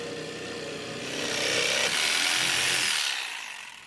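Power saw cutting a curved halfpipe transition from 1/2-inch plywood, a close whining cut that swells louder midway and then fades as the blade finishes.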